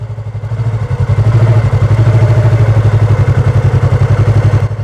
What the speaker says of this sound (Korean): 이렇게 엔진이 꺼지기 전에 다시 얘를 잡아주는 거예요.